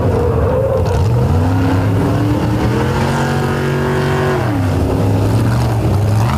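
Racing trucks drive on an oval track at the Indy finale, a loud continuous engine drone with rising and falling pitch as they accelerate and lift, no talk.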